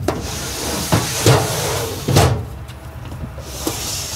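A cutlery drawer in a Toyota Land Cruiser 300 Series slides and thumps shut nearby, with a couple of soft knocks and rattles around it.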